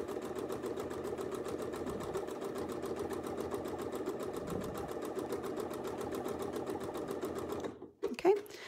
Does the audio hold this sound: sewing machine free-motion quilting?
yes